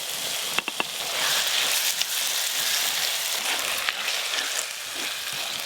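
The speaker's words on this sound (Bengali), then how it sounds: "পেঁয়াজের সঙ্গে আদা রসুন বাটা দিয়ে একসঙ্গে সব কিছু ভালো করে ভাজবো।" Onion with ginger-garlic paste frying in a pan for a partridge (titir) meat curry, giving a steady broadband sizzle throughout with a few sharp clicks and pops near the start, close and fairly quiet with no talk.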